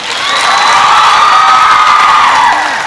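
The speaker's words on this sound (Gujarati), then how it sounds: "આ માણસ માટે એક જોરદાર તાળી પાડો" An audience at a school motivational speech breaks into loud applause and cheering, a dense, close burst of clapping and shouts that swells and holds for a few seconds.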